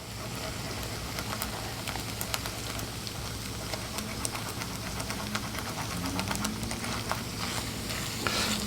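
Egg scrambling in a hot pan for egg fried rice, giving a steady dense sizzle with scattered light clicks and scrapes of stirring, fairly close.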